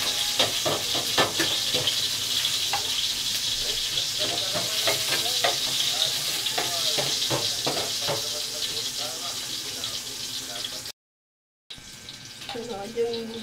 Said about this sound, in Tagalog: Igigisa po muna natin yung upo.